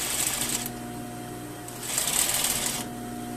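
A sewing machine stitches a seam forward and back in two short bursts, a rapid whirring chatter with a quiet pause between, close and fairly loud.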